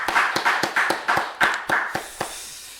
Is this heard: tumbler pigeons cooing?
no